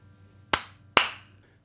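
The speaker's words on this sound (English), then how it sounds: "just clap, right?" Two sharp hand claps about half a second apart in a quiet room, used to sync a microphone and cameras while recording a music video; each crisp smack rings out briefly before fading.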